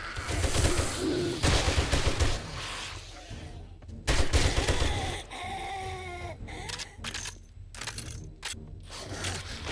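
Machine gun fire in the video game 7 Days to Die crackles in dense, rapid bursts, loud and close, broken by brief pauses and mixed with other game effects.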